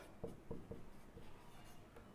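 Someone writes on a board during a Class 8 maths lesson: a few faint, quick scratching strokes near the start, then softer intermittent rubbing in a quiet room.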